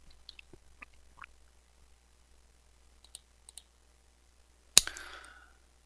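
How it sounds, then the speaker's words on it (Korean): Computer mouse clicking a button on the Naver Smart Store seller signup page: several faint, scattered clicks, then one sharper, louder click near the end, with no talking. "또 판매자 가입하기 네, 이 버튼을 클릭을 합니다."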